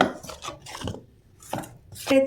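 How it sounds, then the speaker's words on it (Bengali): Flour being stirred into warm salted milk for patishapta pitha batter, several separate bursts of clinking and scraping against a bowl, close and fairly loud, with short pauses between strokes. "এই ময়দাটা দিয়ে দেব, এটাকে গুলে নেব ভালো করে"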